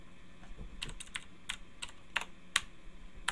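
Sparse, irregular keystrokes on a computer keyboard, close and crisp, with a few sharper clacks spaced out over a few seconds against a faint room hum.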